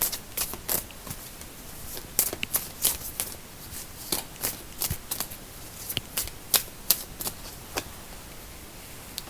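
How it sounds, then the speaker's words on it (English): Tarot cards are shuffled and drawn, with dozens of sharp papery flicks and slaps coming in uneven bursts, close by in a quiet room. "Let me pull a last card."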